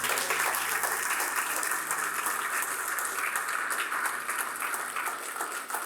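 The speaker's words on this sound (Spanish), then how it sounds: "Se vale un aplauso al Señor." Steady applause from a church congregation at a Spanish-language service in Barcelona, dense and continuous clapping filling the whole stretch at an even level without pause.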